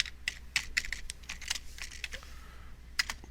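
Typing on a computer keyboard, with a series of close, crisp key clicks in irregular bursts and a short pause before a final few taps.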